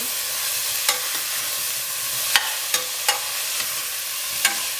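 Quarter kilo of brinjal tossed into a pan of fried onions for massoppu saaru, a steady soft sizzle with several sharp spoon scrapes and clinks as it is stirred, no voices.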